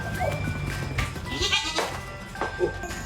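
A pet goat bleating close by in a few short, wavering calls, with faint background voices.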